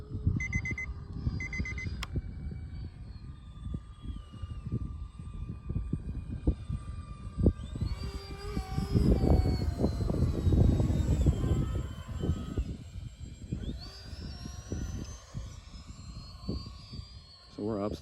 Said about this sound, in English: Motor sounds like it's like giving out